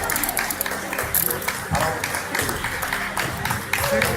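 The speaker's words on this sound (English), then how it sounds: "And you're clapping." People clap in bursts during a street arrest of a religious preacher, uneven close hand claps mixed with crowd noise and talking voices.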